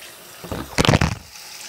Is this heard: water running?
yes